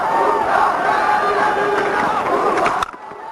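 Cricket stadium crowd roars loudly and steadily after a huge six of roughly 120 yards in an international match, the cheer cutting off abruptly near the end, with no distinct bat crack standing out.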